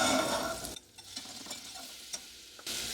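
Butter melts in a pan while a whisk stirs it, making a soft sizzle and scraping, stirring clicks that drop briefly quieter in the middle before the sizzle returns.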